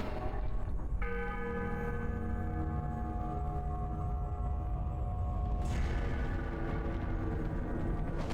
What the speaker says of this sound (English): And then we pull the bell.